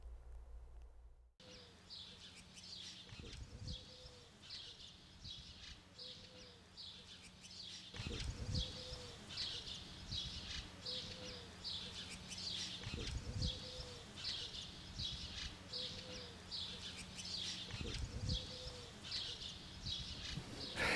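Small birds at a Niger seed feeder, a lesser goldfinch beside a female red-winged blackbird, give repeated high chirps and twittering over steady outdoor background noise, with soft low coos recurring every few seconds.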